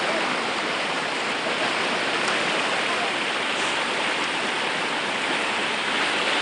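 Clean river water flows steadily in a broad, continuous rush that stays close and even throughout, with no talk over it.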